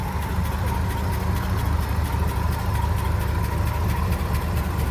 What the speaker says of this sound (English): this still has straight 6 in her, but she isn't running too bad